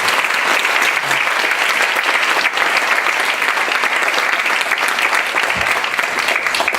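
An audience at a school leadership forum's end-of-year evening event in Cape Town claps in sustained, dense applause that stays loud and steady throughout, with no voices over it.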